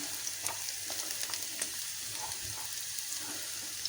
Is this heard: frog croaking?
no